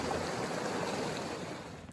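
Cold snowmelt stream water rushing steadily around a hand dipped into it, a close, even wash of flowing water that fades slightly at the end.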